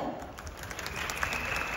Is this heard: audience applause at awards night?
yes